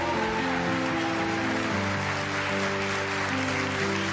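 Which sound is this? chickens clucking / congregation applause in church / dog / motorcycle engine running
congregation applause in church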